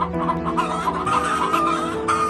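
Several chickens cluck and squawk busily over one another, close and fairly loud, with no talking, as predators attack the flock.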